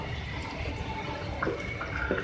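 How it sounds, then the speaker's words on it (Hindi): About two cups of water poured into a pan of cooking beef keema, a steady liquid splash and trickle heard close and fairly quiet, with small drip-like accents near the end. "मैं इसमें 2 कप के करीब वाटर ऐड कर रही हूँ।"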